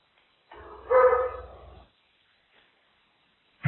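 A dog barking over a radio stream, heard through a narrow, radio-filtered channel: one drawn-out bark or yelp, then silence, then the start of another bark at the very end.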